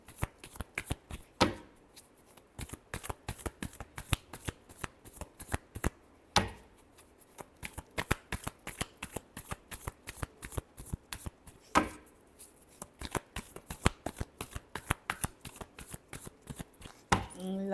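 Tarot cards are shuffled by hand, giving crisp, repeated slapping and riffling snaps in a steady, rapid rhythm, with a few louder bridge-like flourishes. The cards are close and clear, with no talk.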